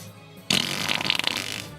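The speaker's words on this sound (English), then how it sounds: "The button should literally just play like an audio file of embarrassing fart sounds" A fart sound effect played back from a button, a single loud, sustained blast lasting over a second with a rough, sputtering texture that cuts in abruptly and then stops.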